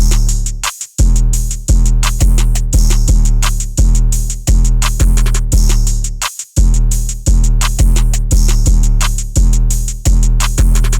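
A full drum beat plays steadily: punchy kicks and booming bass hits under crisp snares and sizzling hi-hats in a bouncy, repeating groove.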